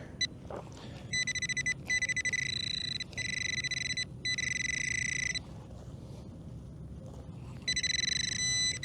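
Sustained electronic tones from a metal detector sound in several long bursts with brief gaps, over a low rumbling background, close and fairly clear, while hunting in a park; the target is a bolt head.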